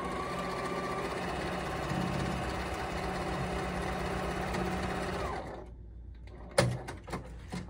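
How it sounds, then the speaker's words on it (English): A sewing machine stitches across a toweling tote bag, a steady close whirring hum that stops after about five seconds, followed by a few sharp clicks and handling knocks. "I'm just going to go ahead and pinch that up and sew that across there."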